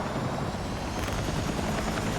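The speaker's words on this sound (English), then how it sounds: "I'm gonna drive this helicopter straight into that dude." A helicopter in the video game Battlefield 6 roars with a loud, steady rotor and engine drone, heard close and alone without talk.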